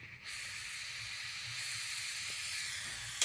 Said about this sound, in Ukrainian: покажу, як я пропаново кисневим пальником буду це спаювати